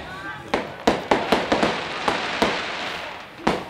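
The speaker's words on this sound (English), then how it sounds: "It's too early for the celebratory fireworks just yet" Fireworks pop and bang in a series of sharp reports over a non-league football match on Bonfire Night, loud cracks spaced irregularly above crowd noise and commentary.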